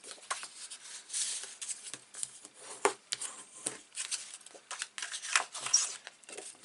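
Paper flaps on a vintage Christmas album page are folded and burnished by hand, giving quiet, close, irregular rubbing, crinkling and scraping strokes with short pauses between them.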